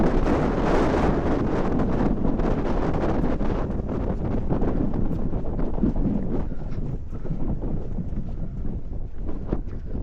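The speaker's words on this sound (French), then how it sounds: "là il y a beaucoup de vent" Strong wind roars across the microphone on a foggy, exposed hillside near Marseille, a loud, steady buffeting rumble with slight gusty swells and no voices.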